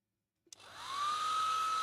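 A hair dryer switches on with a click, then its whine rises and settles into a steady, loud airy hum.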